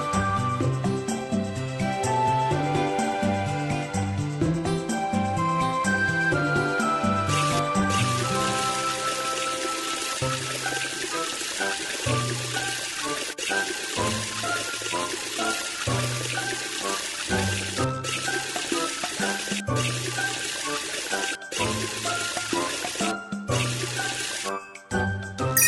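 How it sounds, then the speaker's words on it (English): Water rinses soap off a car in the Robocar Poli car-repair children's game, a steady pouring and splashing wash running under busy game music throughout. "Wash the soap off with water."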